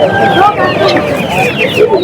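Chickens cluck and squawk close by, busy and overlapping, at a livestock market, while people talk in the background of a noisy outdoor crowd.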